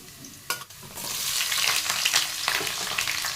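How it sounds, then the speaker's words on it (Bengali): Large whole garlic cloves fry and sizzle in hot oil in a pan for a Bengali bottle gourd dish. A sharp clatter comes first, then a steady, loud, close hiss with bursts of spattering and occasional stirring scrapes. "একটু লাল লাল করে নেবো রসুনটা"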